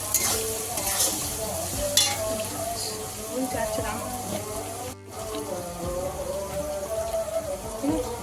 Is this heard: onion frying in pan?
yes